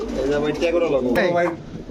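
A red Bombai pigeon coos in repeated throaty phrases at close range, partly overlapping with nearby talk at a pigeon farm stall.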